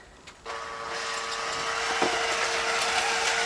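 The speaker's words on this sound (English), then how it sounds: "It's a variable speed drill." A drill motor whines steadily at a high pitch after a brief start, running continuously and close by with a slight rise partway through.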